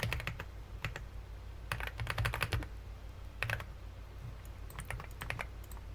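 Fingers typing a basic proxy client configuration on a computer keyboard during a VMware backup software setup: bursts of quick, close key clicks in small clusters over a faint steady room hum.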